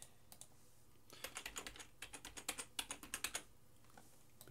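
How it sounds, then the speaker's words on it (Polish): A password goes in on a computer keyboard: quiet, close keystrokes tapped in a quick irregular run, a few scattered presses first, then a dense burst, then a pause with one last tap. "Wpisujemy hasełko."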